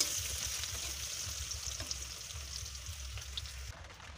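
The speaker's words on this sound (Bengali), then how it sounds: "তো পেঁয়াজটা একটু ভাজা ভাজা হয়ে গেছে" Chopped onions fry with bay leaves in a pan of oil, giving a soft, steady sizzle and crackle that runs unbroken throughout.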